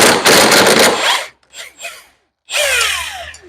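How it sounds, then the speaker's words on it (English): An impact wrench on a 17mm socket removes a front shock strut nut on a Nissan 200SX S12 Turbo hatch: a loud, close, rattling hammer burst for over a second, a few short stuttering bursts, then another sustained loud run. "that requires a 17mm socket or wrench. Pretty partial to my impact."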